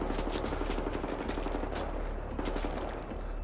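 Dense, continuous gunfire from the video game Wolfenstein rattles on steadily with rapid overlapping shots and sharp cracks, loud and unbroken with no talking.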